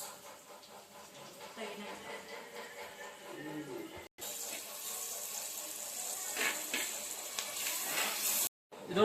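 Chopped onions fry in a clay pot for chicken curry, a continuous close sizzle with bursts of stirring and scraping, and a brief cut partway through.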